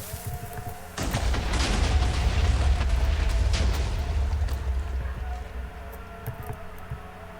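In Minecraft, a blast of rumbling explosions breaks out after a second of quiet and keeps going as a dense, booming roar. It fades slowly toward the end with a few scattered cracks.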